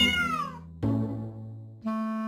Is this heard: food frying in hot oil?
no